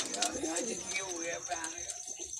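Rampuri pigeons coo nearby in soft, rolling calls that overlap one another, while someone speaks over them throughout.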